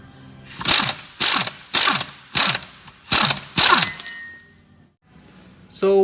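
A ratchet spins out a 13 mm bolt on a Ford Fiesta front lower control arm in six rapid, loud clicking bursts, then a metallic ring and a brief clink, close up.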